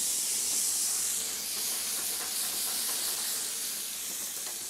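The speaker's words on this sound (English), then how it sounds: "we shall flame this with aquavit" Meat flaring up as aquavit is set alight in a pan in a Lapland kitchen, a steady loud hiss and whoosh of flame held evenly for several seconds with no talking.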